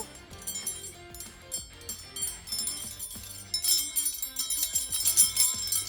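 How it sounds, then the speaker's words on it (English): A homemade wind chime held together with hot glue rings with bright, overlapping metallic tones, struck repeatedly and irregularly, growing denser and louder toward the end. "You don't want to lose all of your amazing wind chime sounds."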